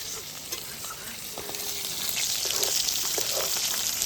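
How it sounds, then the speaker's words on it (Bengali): Pieces of chitol fish fry in hot oil in a kadai with a continuous crackling sizzle that grows louder toward the end, broken by faint stirring taps. "এক এক করে আমি সব মাছগুলো ভেজে নেব"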